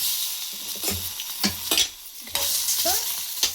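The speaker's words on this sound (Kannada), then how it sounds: "ಒಂದು ಟೊಮೆಟೊ ಫ್ರೈ ಮಾಡ್ಕೊತೀನಿ" A tomato fries and is stirred in a pan for a home-style avare bele lentil curry: a steady, close sizzle with repeated scraping stir strokes over it, and no voices.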